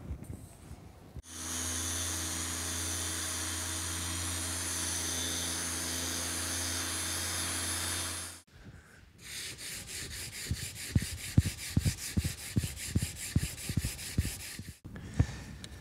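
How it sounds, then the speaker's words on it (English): An electric sander runs for several seconds with a loud, steady drone, smoothing epoxy-coated teak with 80 grit sandpaper, then stops. Rhythmic rubbing and scraping strokes follow. "I'm going to give this a quick sanding with some 80 grit"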